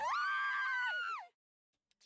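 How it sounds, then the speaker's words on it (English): A single loud scream of about a second and a quarter from the video game The Hundred Line, sustained then trailing off abruptly into silence. "All of a sudden, I could hear screaming."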